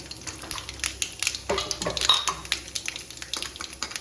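Dried red chillies dropped into hot oil with mustard seeds in a home kitchen pan, a close crackling sizzle with sharp popping spits and light clinks of the utensil.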